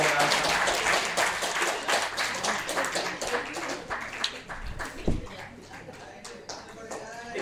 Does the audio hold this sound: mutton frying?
no